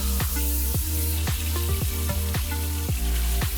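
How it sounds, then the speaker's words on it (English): Chicken pieces sizzle in hot oil in a pan, a loud continuous crackle with sharp pops and clicks recurring every half second or so, close and alone. "you hear the oil sizzle a bit, that's when it's ready. Let's put our chicken in."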